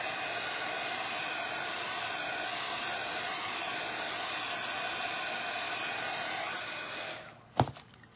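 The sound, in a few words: heat tool blowing hot air for WoodUBend decoupage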